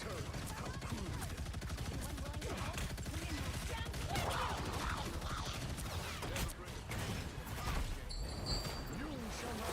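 Video game turret firing in rapid, continuous bursts of mechanical shots, loud and dense throughout, with game voices talking over the gunfire.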